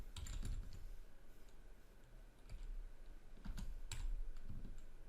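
Quiet typing on a computer keyboard, a few scattered clusters of key clicks with pauses between them, faint and close, with no talk.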